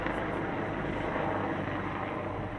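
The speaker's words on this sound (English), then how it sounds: "Got the police plane flying over the area near my workplace here." A police plane flies over a workplace area, its engine a steady, continuous drone that holds at an even level throughout, heard outdoors with no talk.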